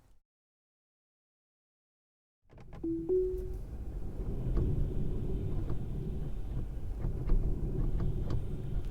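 A Tesla drives itself on FSD Beta 10.6.1: after a couple of seconds of silence, a short chime sounds, then a steady low cabin hum and road rumble with occasional small ticks.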